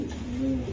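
A racer pigeon coos in one short, low, throaty burst, close by over a busy murmur of background noise.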